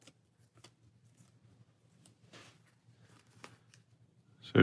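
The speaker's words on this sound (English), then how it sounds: "And then get 6 cards for Miss Marvel" Marvel Champions playing cards drawn from a deck and handled on a table, giving soft, scattered rustles and flicks at close range, quiet and with no talk.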